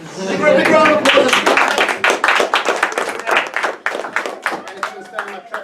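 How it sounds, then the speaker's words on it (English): Audience at a magicians' club trophy contest gives a volunteer a round of applause, loud, dense clapping at first, then thinning into scattered claps, with voices murmuring underneath. "Give her a big round of applause."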